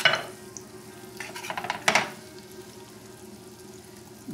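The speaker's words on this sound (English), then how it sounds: "as soon as that looks hot enough, we're going to place the" Veal sizzling as it goes into a hot pan of butter and olive oil: a couple of sharp clattering contacts followed by a steady, fairly loud frying hiss with no talking.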